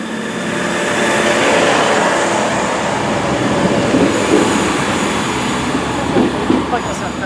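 A train passes through Great Malvern station, a steady loud rumble of wheels and carriages with faint squeal and clatter lasting throughout, close by and without pause.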